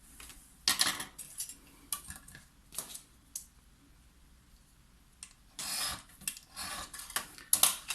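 Scissors snip through paper while trimming a scrapbook page, giving short crisp cuts and light rustling in scattered bursts, close and fairly quiet, with a louder stretch of handling near the end.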